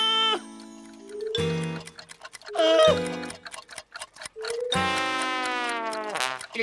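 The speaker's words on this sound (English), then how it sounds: "Why have you got so many clocks, Mr. Tumble?" Many clocks in a children's TV show tick in quick, sharp clicks that come and go between bursts of cheerful singing and sung, musical voices.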